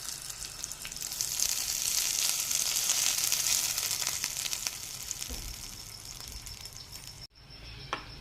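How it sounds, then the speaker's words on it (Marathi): Mustard seeds crackle and pop in hot oil, a dense bright sizzle that stays loud and steady, then thins out and briefly drops away near the end. "मोहरी छान तडतडली आहे"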